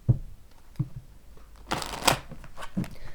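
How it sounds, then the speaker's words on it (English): Tarot cards shuffled by hand in several quick riffling bursts, with soft papery flutters and a louder burst near the middle, close and clear with no talking. "I like to do a quick shuffle on camera and deal the cards on camera"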